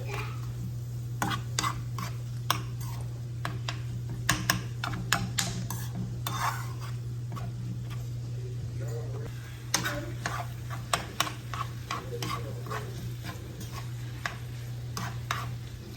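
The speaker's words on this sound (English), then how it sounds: "I'm just gonna mix that in there like that" Ingredients are mixed in a pot with a spoon, producing a run of light ticking clicks and scrapes against the metal over a steady low hum, close and fairly quiet.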